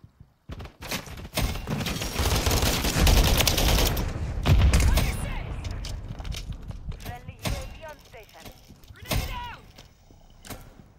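Rapid automatic gunfire bursts from Call of Duty: Modern Warfare 3 multiplayer, loud and dense early on, then scattered shots and impacts, with a player talking over the game.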